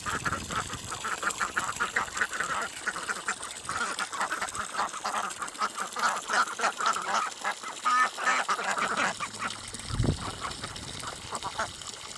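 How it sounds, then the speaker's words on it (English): A small flock of grown ducks, one drake and the rest females, quacking in a steady, overlapping chorus of nasal calls close by, continuous throughout with no talking. "Front duck there, that's the drakes. The rest are all females."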